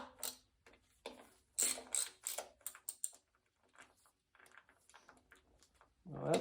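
Ratchet socket wrench working the oil pan bolts on a Mopar 440 V8 engine during a rebuild, giving close bursts of quick clicking ratchet strokes with short pauses between them.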